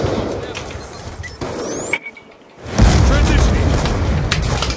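Gunfire in a video game, heavy booming blasts and rumbling explosions playing continuously, dropping briefly to a near-silent gap before a loud burst resumes, with a voice talking over it.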